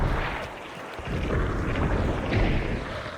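A deep, rumbling explosion in the Hunt Showdown video game rolls and echoes off distant mountains, a broad booming wash that swells twice over about three seconds with no voices.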